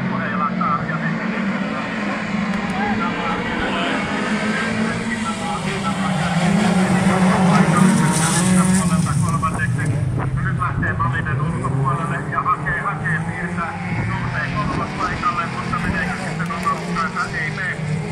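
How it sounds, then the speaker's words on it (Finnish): Rallycross race cars at a race start rev their engines together in a steady, loud, droning roar that swells in the middle, with a commentator talking over it throughout. "Ja nyt alkaa kierrokset nousemaan."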